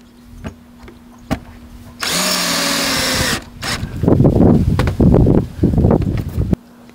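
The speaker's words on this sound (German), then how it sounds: "Noch die letzten Schrauben jetzt." A power drill drives screws into wood while a skatepark start platform is built: scattered sharp knocks, then a steady whirring run of about a second and a half, followed by several shorter bursts of drilling, close and loud.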